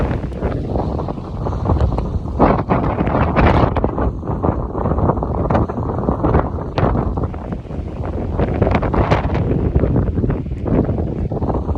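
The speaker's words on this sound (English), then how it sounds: "man, this wind is crazy up here." Strong mountain wind on the Pacific Crest Trail, a loud, steady roar buffeting the microphone with gusty surges throughout, no voices over it.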